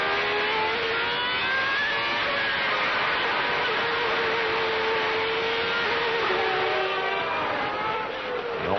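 Onboard engine of Mika Häkkinen's McLaren Mercedes Formula One car at the 1995 Japanese Grand Prix, a loud, steady high-pitched whine with gear-change shifts in pitch, continuous and close throughout.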